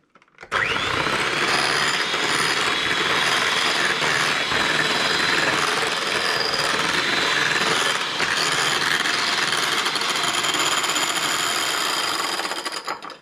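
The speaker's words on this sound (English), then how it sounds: "And then we whisk it again." Egg white mixture for a chocolate dessert being whisked in a bowl, a steady, close, continuous scraping whirr that runs unbroken for about thirteen seconds with no talking.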